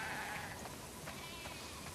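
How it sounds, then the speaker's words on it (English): Sheep bleat on a farm in The Last of Us Part 2, several bleats overlapping at moderate distance over steady ambient game sound, faint throughout. "We definitely have way too many sheep."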